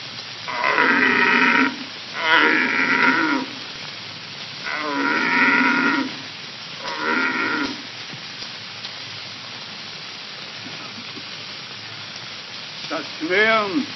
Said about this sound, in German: Der gereizte Hirsch.